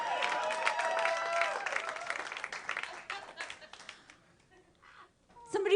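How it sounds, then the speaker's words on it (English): A comedy festival audience applauds a comedian, dense clapping under a talking voice that gradually thins out and fades, with a brief sharp burst at the end. "They're still applauding for Natisha."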